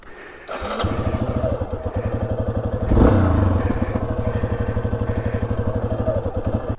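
A Yamaha XT250 motorcycle engine runs close by on a wet desert ride with a sticking throttle, a steady rapid low thumping idle that swells into a brief louder rev midway before settling back.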